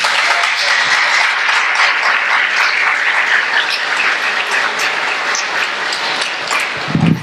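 A church congregation claps together in sustained applause, a loud, dense patter of many hands that carries on steadily before tapering off at the very end.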